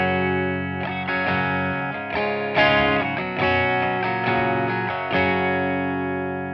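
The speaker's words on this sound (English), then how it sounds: "So here's the sound of the V40 straight in." A clean Stratocaster guitar played straight into a Victory V40 valve amp, strummed chords ringing out with full harmonic sustain, several strums and changes over a few seconds, close and fairly loud with no talking.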